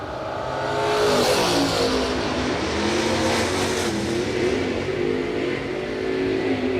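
Drag racing at Cedar Falls, including a 1968 Mustang with a 584 engine, as cars launch and accelerate hard down the strip: a loud, sustained engine roar that rises and holds steady across the run, with no talking.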